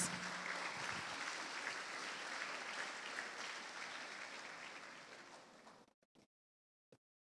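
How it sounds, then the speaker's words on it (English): Audience applause at a primary school graduation ceremony, a dense, even wash of clapping from a large crowd that slowly thins and stops abruptly, leaving a few isolated claps. "So let's give them a round of applause for that."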